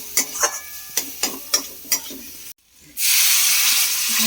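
Pomfret fish masala with turmeric in a pan: a few sharp clinks of stirring, then a loud, steady sautéing sizzle that fills the rest.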